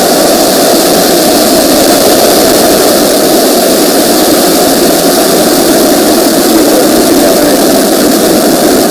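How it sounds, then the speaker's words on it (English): A SpaceX Falcon 9 rocket carrying Starlink satellites ignites and lifts off, its engines a loud, unbroken, broadband roar that stays steady throughout. "Ignition. Liftoff of Falcon 9 and Starlink"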